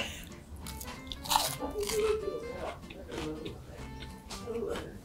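Crunchy bites into a freshly fried shiso leaf and cheese fry, crisp close-up crackles and chewing mixed with a voice talking around them.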